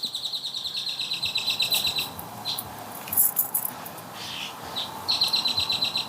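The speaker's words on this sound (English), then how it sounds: "You kind of heard some birds just now, and those are some of my favorite birds in this area because they make such amazing sounds." Songbirds call in a Dallas-area garden in spring, repeated rapid high chirping trills in bursts, fairly close and clear over quiet outdoor background with no talking.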